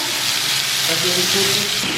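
Fresh fish sizzling and frying on a hot tawa griddle, a steady dense crackle of oil filling the whole moment at close range with no talk.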